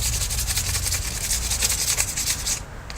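A wooden-look bow limb sanded by hand for a woodgrain finish, with quick, steady back-and-forth rasping strokes up close that stop just before the end.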